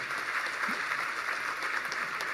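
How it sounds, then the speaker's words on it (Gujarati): Audience at a stage gathering for a spiritual discourse applauding a stage host: continuous dense clapping from a crowd, steady and moderately loud throughout, no speech. "આપણા સ્ટેજ સંચાલક ભાઈ શ્રી મનોજભાઈનો જોરદાર તાળીઓથી વધારો"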